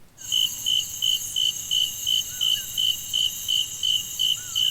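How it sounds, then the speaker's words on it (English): Crickets chirping in a regular pulsing rhythm, about a dozen bright trilled bursts at an even pace, loud and close with no other sound. "And the crickets are chirping."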